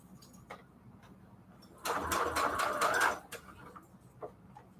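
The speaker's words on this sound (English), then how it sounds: "we're literally sewing so slow that it really doesn't deviate very, very much" A sewing machine stitches fabric slowly for sunflower-themed ruffles, a short burst of rapid mechanical ticking lasting about a second, with faint clicks before and after.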